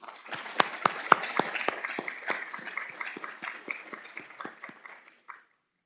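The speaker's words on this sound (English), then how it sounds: "Please, a hand of applause for." A small audience at a vision science symposium's opening remarks claps, sparse distinct hand claps in an uneven patter that thins out and stops after about five seconds, fairly quiet and alone.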